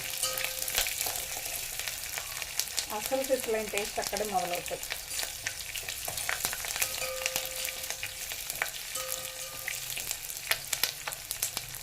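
Spice tempering frying in hot oil for red sorrel dal, a steady crackling sizzle throughout with occasional stirring scrapes, while a voice speaks briefly over it.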